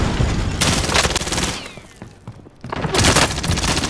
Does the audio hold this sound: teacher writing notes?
no